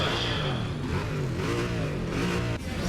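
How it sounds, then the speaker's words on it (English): Race car engines in Need for Speed ProStreet rev loudly in overlapping, rising and falling whines, several cars blipping their throttles together at the start line. "listen to those engines moving"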